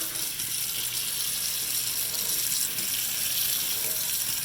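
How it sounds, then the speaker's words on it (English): Filtered water runs steadily over pumpkin seeds in a strainer, a close, continuous hiss of rinsing water with faint clinks of seeds shifting. "And then you just clean them up with some filtered water."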